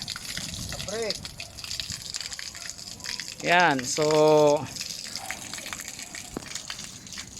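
Rust-yellow water gushes and splashes steadily from a sand filter during backwash while someone talks over it, with a couple of brief whooping tones rising above the flow.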